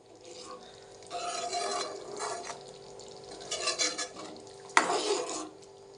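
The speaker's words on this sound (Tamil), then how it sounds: "இது இந்த சர்க்கரை கரையிறது வரைக்கும் கொஞ்சம் கிண்டிகிட்டே இருக்கணும்." A spoon stirs tamarind curry with sugar in a cooking pot, making bursts of wet scraping and clinking against the metal over a low bubbling sizzle, with one sharper knock near the end.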